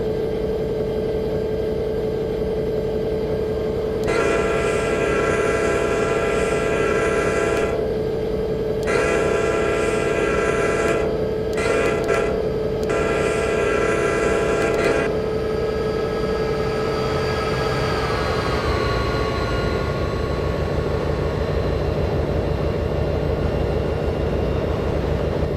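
An Amtrak F40PH diesel locomotive hauls the California Zephyr over Donner Pass, sounding a loud multi-tone horn in several long blasts over a steady engine rumble, then rolling onward as the horn fades.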